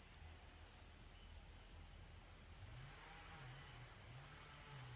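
Dense, unbroken cricket trilling at night fills the air at a constant pitch, with a soft low rumble drifting through in the background.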